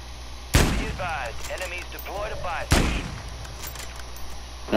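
Two loud, sharp sniper rifle shots ring out in Call of Duty Warzone about two seconds apart, with a third shot starting at the very end and talking in the quieter gap between them.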